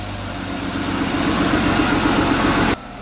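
BMW M3 engine idling steadily up close, a continuous low droning hum with even pulsing, slightly rising in level before cutting off abruptly near the end.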